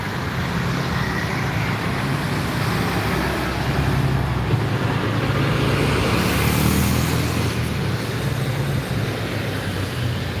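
A Trans double-decker bus pulls in to park at a busy roadside spot in Bulak Kapal, Bekasi, its low engine rumble steady and loud amid constant surrounding traffic noise.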